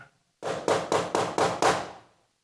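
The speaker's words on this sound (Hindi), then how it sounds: "बाईं तरफ दरवाजे पर तीखी जोर जोर से खटखटाने की आवाज आती है।" Loud sharp knocking on a door, six heavy raps in a fast, even series, close and dominant, ringing briefly after the last blow before silence.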